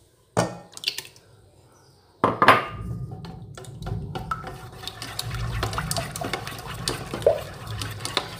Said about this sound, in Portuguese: Nesse caso, eu vou usar o fouet, tá? Fácil pra misturar. Olha, já coloquei os ovos, já bati.